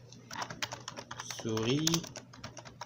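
Computer keyboard keys clatter in quick, irregular clicks while someone speaks French over the typing.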